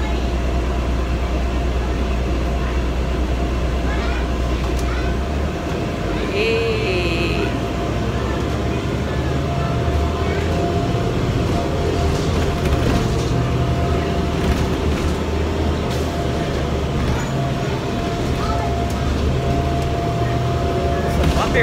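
Riding inside an articulated RTA bus in New Orleans on a bumpy route, a constant loud engine and road rumble with rattling cabin noise, a faint voice briefly heard beneath it.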